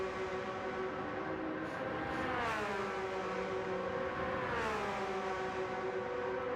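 Porsche Cup race cars roar past on a racing circuit, a continuous engine drone with rising and falling pitch sweeps as the cars close in and pass, heard at a distance with no voices.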